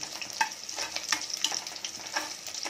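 Twelve crushed garlic cloves, two green chillies and a dried red chilli sizzling in a pan, a soft crackling fry broken by small pops and spoon stirs, fairly quiet and close.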